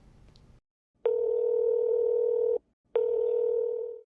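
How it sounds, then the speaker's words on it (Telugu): A telephone call being placed produces two steady electronic ringback tones, the first lasting about a second and a half and the second following after a short pause, clear and close with no talking. "నేను కాల్ చేస్తాను కళ్యాణ్ గారు, ఒకసారి కాల్ చేస్తాను"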